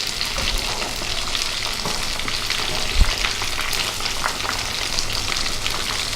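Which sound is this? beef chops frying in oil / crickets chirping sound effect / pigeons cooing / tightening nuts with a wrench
beef chops frying in oil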